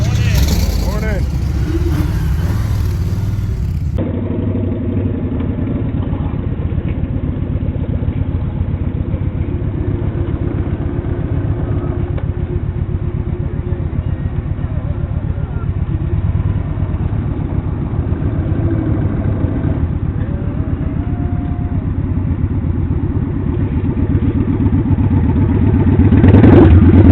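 A Kawasaki Voyager motorcycle sits idling nearby with a steady, rumbling mid-pitched engine drone, occasional clatter and a slight rev near the end, with people talking over it.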